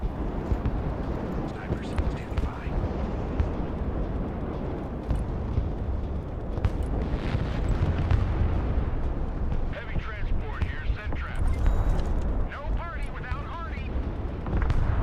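Heavy explosions from cruise missile strikes in the military strategy game Broken Arrow, a continuous loud barrage of booming blasts and rumbling impacts with dense low-end roar throughout, and a voice speaking faintly underneath.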